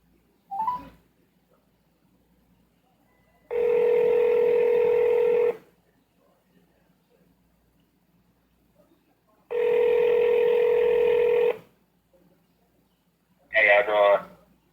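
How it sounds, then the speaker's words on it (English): A telephone rings twice in long, even bursts with a quiet gap between them as a caller is added to a call. Brief voices come just before and after the rings. "Let me add them in on the call."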